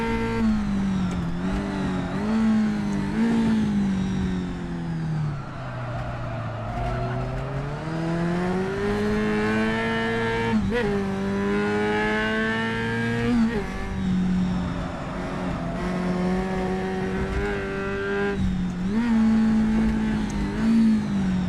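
A 2.5 litre V8 Tasman Formula racing car engine howls at the Longford circuit, rising and falling through repeated gear changes and corners, with tire squeal, loud and continuous.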